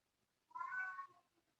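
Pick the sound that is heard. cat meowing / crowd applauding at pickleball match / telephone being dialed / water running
cat meowing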